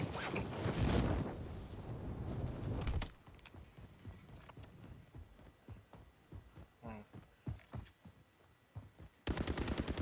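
Gunfire in the video game Warzone, with a loud dense burst of automatic fire up front, then scattered sharp shots and rapid bursts, and another loud rattling burst at the end.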